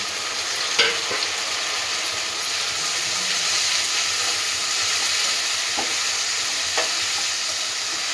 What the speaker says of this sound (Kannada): ಇವಾಗ ಇದು ಈರುಳ್ಳಿ ಫ್ರೈ ಆಗಿದೆ